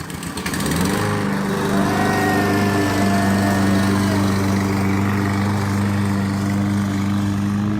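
A Husqvarna push lawn mower engine starts and settles into a loud, steady running drone close by, holding an even pitch for several seconds with no talk.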